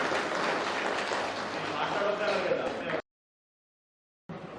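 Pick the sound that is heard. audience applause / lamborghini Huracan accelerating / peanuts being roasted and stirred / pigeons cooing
audience applause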